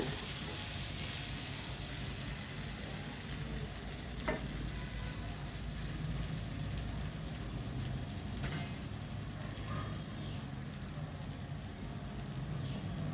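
Urad dal vadas frying in a pan of hot oil, giving a steady, dense sizzle that stays even and close throughout, with a couple of faint clicks and no voices.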